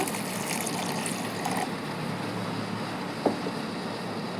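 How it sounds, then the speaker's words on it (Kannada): Water is poured into a juice mix of jaggery powder, mint leaves, lemon juice and salt, heard as a steady close trickle and wash of liquid with one small clink partway through. "1 ಕಪ್ ಜ್ಯೂಸಿಗೆ ಬೇಕಾದಷ್ಟು ನೀರು ಹಾಕ್ಕೊಳ್ಳೋಣ"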